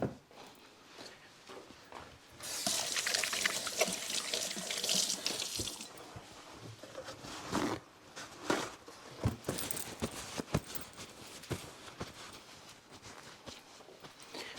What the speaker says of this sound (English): So I'm going to wash my hands real quick.